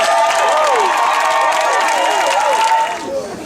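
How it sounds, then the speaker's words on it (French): A church congregation at a prophetic Saturday of Glory service shouts acclamations, many loud overlapping voices forming a continuous close roar that dips slightly near the end. "Donc encore, donne des clameurs."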